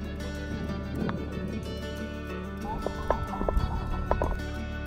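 Horses haul a covered wagon over rough, unforgiving terrain in the American West, with clip-clopping hooves, creaking and rattling, and a faint whinny, growing busier toward the end.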